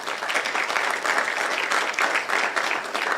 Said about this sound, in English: We can provide a loud applause for our sponsors.